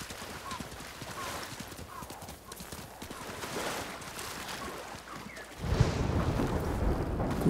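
Horse hooves clip-clop steadily on the ground in a bamboo setting, the rhythmic footfalls carrying on for several seconds before a louder, rougher burst of noise takes over near the end.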